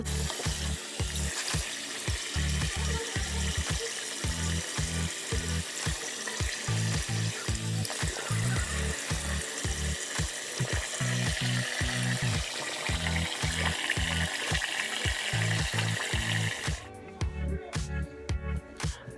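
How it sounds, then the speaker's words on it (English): Water running and splashing steadily in a bathroom sink while a face is washed after a Florence by Mills berry pore mask, irregular close splashes throughout with a sharper burst near the end. "Basically, we're just gonna wash our face."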